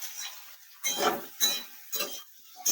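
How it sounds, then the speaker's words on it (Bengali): A spatula stirs and fries potato, eggplant and carrot in a pan, making four distinct scraping, clinking strokes with short pauses between them. The sound is close and clear, with no talking. "এবার খুব ভালোভাবে নেড়ে চেড়ে সবজিগুলো একটু ভেজে নিচ্ছি"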